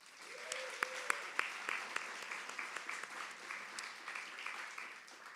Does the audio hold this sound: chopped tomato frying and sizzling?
no